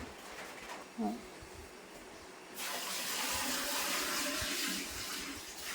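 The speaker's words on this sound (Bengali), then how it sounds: "পরিমাণ মতো জল দিয়ে আর ঢাকনা দিয়ে দেবো।" Water pouring into a cooking pot of washed potatoes being boiled, a sudden full splashing gush that starts after a brief clink and continues steadily to the end, close and fairly loud.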